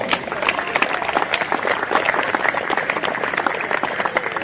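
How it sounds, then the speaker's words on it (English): A crowd claps steadily, a dense patter of many hands at moderate loudness with some chatter mixed in, at a women's T20 cricket final. "please, a round of applause to our volleys"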